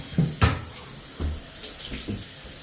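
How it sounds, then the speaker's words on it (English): Water from a shower in an Arizona home, started by pulling down the tub spout diverter, runs as a soft steady hiss with a few splashy bumps and knocks. "Just pull this down and that'll start the shower"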